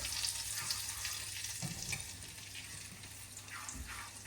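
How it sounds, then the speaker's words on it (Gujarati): Spiced masala tempered in hot oil in a home kitchen, giving a steady close sizzle and crackle with a few brief stirring knocks and no voices. "ગરમ ગરમ તેલમાં મસાલો મસ્ત મજાનો બોળો વઘારાઈ ગયો છે."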